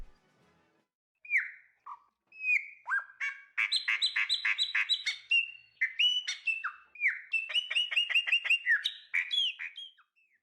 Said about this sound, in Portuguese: Eles vêm para a Avenida República do Líbano ficar cantando seu belo canto.